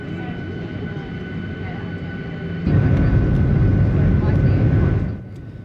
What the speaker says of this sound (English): Today I'm travelling on Boeing 737-800 series aircraft.